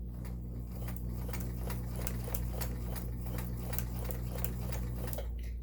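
Kenmore 1802 sewing machine sewing a zigzag stretch stitch, a steady, rapid mechanical clatter with a low motor hum running evenly and fairly quietly throughout.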